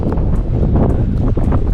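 Strong wind buffets the microphone at a seaside campsite in Smugglers Cove, Wales, a loud, continuous low roar with gusty rumbling and faint rustle, no voices.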